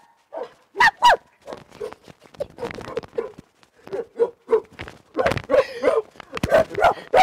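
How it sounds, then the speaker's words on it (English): A dog barks in an irregular series of sharp, loud yaps, some coming in quick bursts, close by. "Can you hear that dog?"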